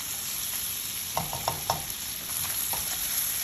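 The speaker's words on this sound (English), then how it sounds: "go ahead and add the bacon pieces. All right, so render out the fat for about a minute" Bacon pieces fry in a spoonful of oil, rendering their fat with a constant soft sizzle, while a few quick stirring clicks sound up close near the middle.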